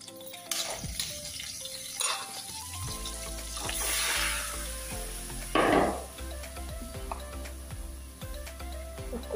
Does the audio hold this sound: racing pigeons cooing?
no